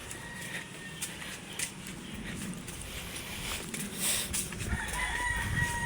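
Chickens at a poultry farm clucking and a rooster crowing faintly at a distance over steady outdoor background noise, no talk.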